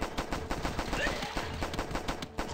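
Rapid, continuous machine gun fire in the video game The Last Stand 2 rattles in a fast, even rhythm, loud and close throughout.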